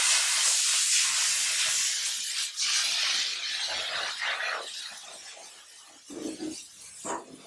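A Chief Steamer 155 (240 volt) steam cleaner blows steam into the cracks and crevices of a car, making a loud continuous hiss that wavers and briefly drops off toward the end.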